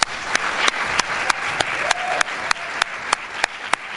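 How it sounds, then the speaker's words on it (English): An audience at a political event claps steadily in sustained applause, with distinct sharp claps standing out over the dense, continuous patter throughout. "let's give Aisha another round of applause"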